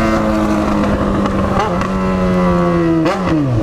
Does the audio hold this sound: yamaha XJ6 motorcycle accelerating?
yes